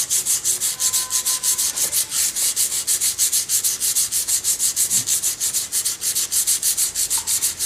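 Rhythmic back-and-forth abrading of a metal surface being prepared for strain gauge installation, a loud, steady scratchy rasp repeating at a quick even pace, close up and alone.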